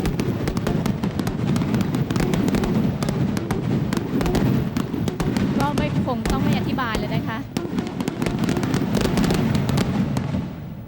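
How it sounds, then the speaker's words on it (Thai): Continuous fireworks fired in rapid series from three launch points at a Thai royal celebration, a dense stream of crackling bursts and pops with some whistling rockets, loud and sustained under crowd noise. "เป็นดอกไม้ไฟที่ยิงติดต่อกันเป็น ตับขึ้นจาก 3 จุด"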